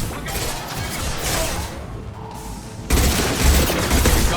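Dense gunfire from a Mass Effect 2 firefight, a steady loud rattle of shots with crashes and a sharp jump in intensity near the end.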